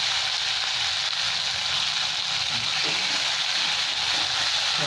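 A local tomato goes into hot oil in a pan, giving a loud, continuous hiss of sizzling frying that holds steady throughout with no voices.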